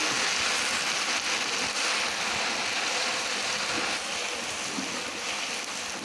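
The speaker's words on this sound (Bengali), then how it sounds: "তেলটা খুব গরম হয়ে গেছে, এখন পেঁয়াজ কুচিগুলো দিয়ে দেওয়া হচ্ছে।" Chopped onions sizzle in very hot oil, cooked in bulk for a neighbourhood wedding, a loud, dense, unbroken frying hiss that holds steady the whole time.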